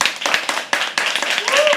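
An audience at a live poetry open mic claps loudly and continuously at close range, with voices calling out over the applause.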